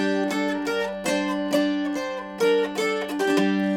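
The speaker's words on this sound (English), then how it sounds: "so that's your diatonic scale on the mountain dulcimer" A mountain dulcimer plays a stepwise diatonic scale with a steady drone underneath, bright twangy notes changing every half second or so, close and clear.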